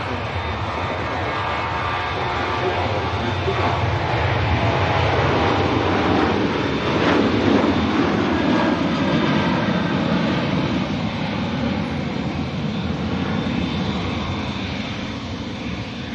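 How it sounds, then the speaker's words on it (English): A jet airliner departs Manchester Airport, its engines sounding as a steady, loud broadband roar that holds throughout without speech. "TUI Dreamliner holding short, waiting for the Ryanair to depart out to Bratislava."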